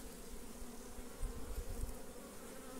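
Apis honeybees buzz around a hive lodged in a cabiuna tree stump, a soft continuous drone with a few passing bees swelling briefly louder up close, and nobody speaking.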